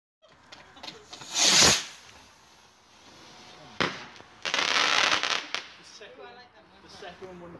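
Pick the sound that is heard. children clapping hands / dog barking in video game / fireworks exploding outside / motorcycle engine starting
fireworks exploding outside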